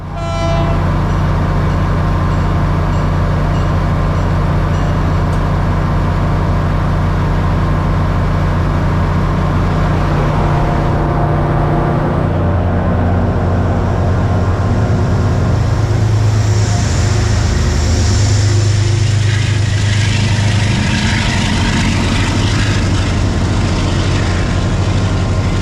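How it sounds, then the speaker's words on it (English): A Metro-North deadhead train eases into the South Norwalk station on track 3 with a diesel locomotive idling nearby, a loud, continuous rumble and drone that shifts as the train rolls through, with no voices. "Metro North Deadhead train 5539 eases into the South Norwalk station westbound on track 3"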